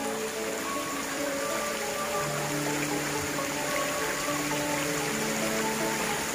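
A deep river runs between cliff walls, giving a steady, full rushing and burbling water wash that stays constant and fairly loud throughout, with a few faint tonal hums underneath.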